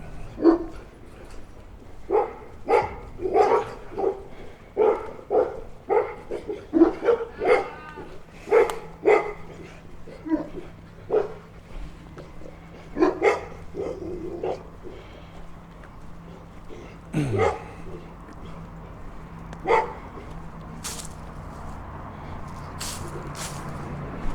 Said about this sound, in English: Make sure this series of dogs don't get too upset.